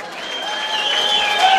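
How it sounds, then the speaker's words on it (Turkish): A Turkish community association night audience in Çamdere applauds from a concert crowd, a dense steady patter of clapping for under two seconds with no talk over it. "Kendinizi bir alkışlar mısınız dostlar?"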